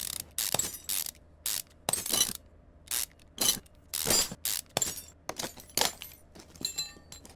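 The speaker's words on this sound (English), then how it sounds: "Take the pulley off. Take the timing cover off." In the Car Mechanic Simulator 2015 video game, a pulley and timing cover come off an engine with a steady series of crisp, close metallic ratcheting clicks and clanks in separate bursts, alone without speech.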